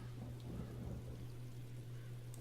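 Rain spell cast from a scroll in Divinity Original Sin 2, a soft steady hiss of falling rain with a low constant hum underneath, faint and even throughout.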